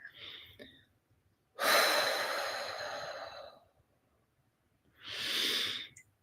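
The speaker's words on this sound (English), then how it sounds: "you can just take a really deep exhale. Let out all of your air." A long, breathy exhale rushes out close to the microphone, followed after a pause by a shorter airy breath.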